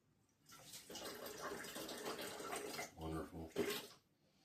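A kitchen tap runs weakly under low water pressure while a cup is washed. The flow is a thin, steady hiss with a few brief clinks and splashes near the end.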